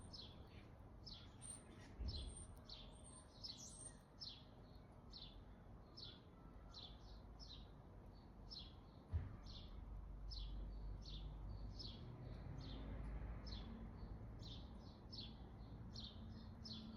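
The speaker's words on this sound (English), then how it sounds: "Just so nice outside when you can just listen to the birds." A bird repeats a quick, bright chirping phrase over and over at a steady pace, set against a soft outdoor rumble and breeze.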